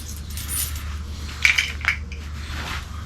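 A large bunch of keys, including a John Deere key, jingling and clinking in a quiet room, with two brighter metallic jangles close together near the middle over a low steady hum.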